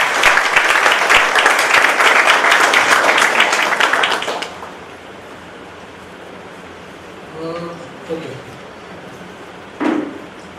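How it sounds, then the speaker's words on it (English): Audience applause at a music conversation event in Mumbai: a loud, steady burst of clapping for about four seconds that stops abruptly, leaving a quiet room with a few faint knocks and shuffles. "Can we have a round of big applause for them?"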